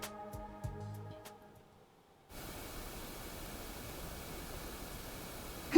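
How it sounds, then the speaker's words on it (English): Steady hiss of white noise plays from a video in The Hundred Line: Last Defense Academy, switching on abruptly after a few faint tones and holding at an even level to the end. "Sounds just white noise."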